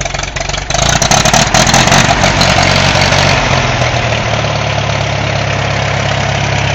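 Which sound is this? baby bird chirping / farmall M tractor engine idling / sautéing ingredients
farmall M tractor engine idling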